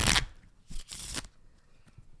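Playing cards are shuffled in a few short, crisp riffling bursts, close by, then quiet handling noise.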